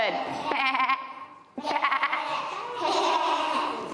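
A group of children imitating a sheep, with repeated drawn-out wavering bleat-like calls from several young voices, loud and close in a classroom lesson on farm animals.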